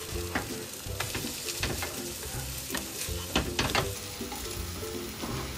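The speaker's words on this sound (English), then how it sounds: "It's good to fry the potato mixture a little thick." Potato pancake mixture frying in a pan, a steady close sizzle and crackle with occasional louder pops and light scraping, no voices.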